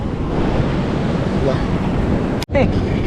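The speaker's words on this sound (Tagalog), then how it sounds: "nung naglaki ng alon at naabot doon yung tubig" Ocean waves wash ashore onto sand with a loud, close, continuous rushing surf, heavily buffeted by wind on the microphone and cut by one brief dropout near the end.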